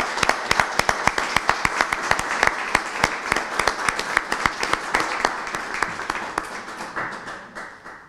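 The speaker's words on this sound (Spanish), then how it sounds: "le digo que te quiero mucho y un aplauso para ella" An audience claps for the author's mother at a book presentation of aphorisms. Many sharp, individual claps close by form steady applause that thins and fades toward the end.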